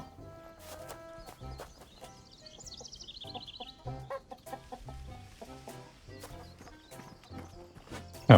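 Chickens cluck in a farming video game among rhythmic clip-clop hoof beats and light game sounds, the birdlike calls short and moderately quiet, with a louder thump at the very end.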